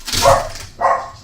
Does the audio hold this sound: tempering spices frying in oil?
no